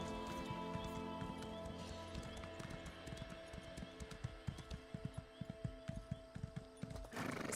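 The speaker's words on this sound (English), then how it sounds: "right now I feel like horse is not the fastest" A horse gallops in The Elder Scrolls Online, its hooves clip-clopping in a quick rhythm over a droning game soundtrack, with a neigh near the end.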